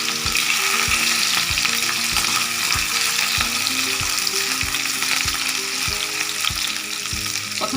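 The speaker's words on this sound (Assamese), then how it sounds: "এতিয়া মই প্ৰথম ইয়াত আলুখিনি ফ্ৰাই কৰি ল'ম। তেলখিনি মোৰ গৰম হৈ গৈছিলে।" Potatoes fry in hot mustard oil with a loud, steady sizzle, while regular stirring scrapes tap through it at a brisk, even rhythm. The pan sounds close, and nobody speaks.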